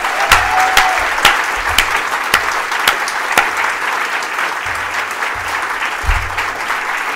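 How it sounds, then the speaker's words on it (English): A conference audience at a head and neck cancer meeting breaks into sustained applause, a dense wash of many hands clapping together, with a few louder claps close by standing out from the crowd. "can I please have a big round of applause for Chris and the rest of the Swallows team putting this fantastic event together"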